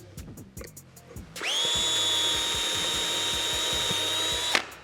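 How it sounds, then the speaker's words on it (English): A power drill spins up loudly at full speed and drills steadily through wood for several seconds, then stops abruptly; a few faint knocks come before it starts. "full speed with the drill because then I have a nice surface also."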